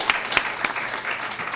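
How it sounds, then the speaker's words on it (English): Audience clapping for three speakers at a community and political organizing talk, a modest round of separate claps with a few sharp louder hits near the start before settling into even applause. "join me in a round of applause for our three phenomenal speakers"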